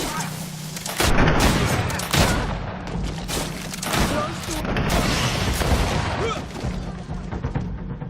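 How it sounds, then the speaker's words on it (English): Grenade blast and bursts of gunfire during a fight in the video game GreedFall, several sharp loud cracks and booms spread across the stretch amid combat noise. "Grenade!"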